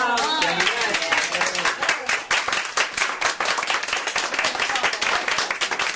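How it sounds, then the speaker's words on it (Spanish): A studio audience claps to welcome a Gardel look-alike performer onto a comedy show set, with dense, loud, steady clapping throughout and voices mixed in. "Un aplauso"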